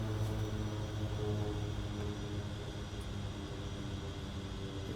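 Propeller engine of a light bush aircraft at low idle in MS Flight Simulator, parked at a Papua New Guinea highland airstrip, giving a steady, continuous drone with a low hum throughout.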